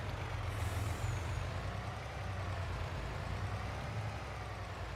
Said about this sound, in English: Let's try the Mack truck this time, and we'll grab, I think we'll grab the heaviest one.